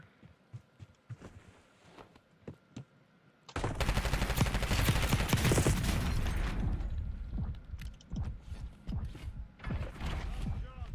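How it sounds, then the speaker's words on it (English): Heavy gunfire erupts in Call of Duty Warzone as rival teams shoot at each other: sparse distant shots at first, then a loud, sustained barrage of rapid automatic fire that thins into scattered bursts. "Luckily, they're shooting at each other."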